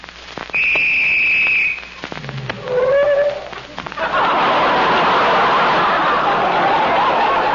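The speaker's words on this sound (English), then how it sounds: "Somebody blew the whistle by mistake." A toy police whistle from a dress-up kit with an armband, blown loudly in a few shrill bursts, followed by a sustained wash of louder broadband noise.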